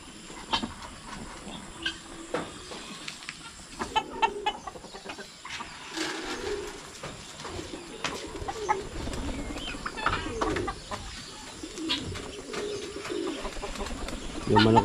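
Backyard poultry calls, with clucks and cooing mixed among other bird sounds, come intermittently from nearby at moderate volume over an outdoor background.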